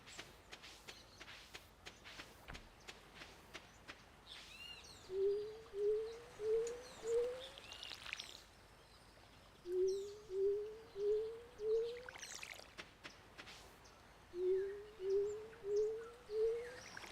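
A video game crow caws in three clear bursts of four rising calls, spaced a few seconds apart, over a quiet ambient background with soft footstep-like taps.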